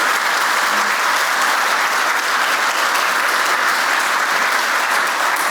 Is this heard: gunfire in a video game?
no